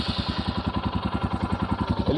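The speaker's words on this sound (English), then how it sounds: "I wanted you to hear the exhaust note of this bike" A Royal Enfield Himalayan BS6 motorcycle in Rock Red idles with its exhaust note close by, an even, rapid train of low thudding pulses that holds steady throughout.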